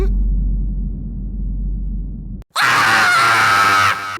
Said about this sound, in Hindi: क्या हुआ, चिल्ला क्यों रहा है?